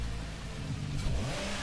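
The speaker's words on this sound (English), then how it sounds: "The Nissan GT-R is ready to be prepared and it's finally revving up" A Nissan GT-R GT Academy Version revs up in the racing game Gran Turismo Sport, giving a continuous mid-pitched engine whir with rising and falling rev sweeps, steady and fairly close.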